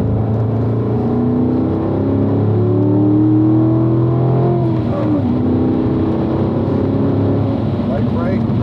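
Corvette engine pulling hard on a race track during a Level II driving school session, steady loud drone with rising pitch sweeps as it accelerates and eases off, an instructor talking over it.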